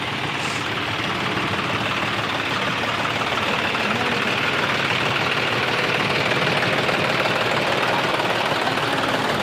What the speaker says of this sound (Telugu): ట్రాక్టర్లు ట్రాక్టర్లే వస్తున్నాయి